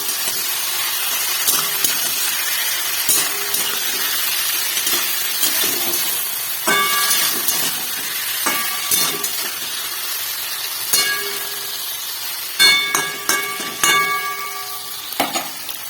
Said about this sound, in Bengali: এবার একটু ভালো করে মাছগুলোকে নাড়িয়ে নেবো পেঁয়াজের সাথে।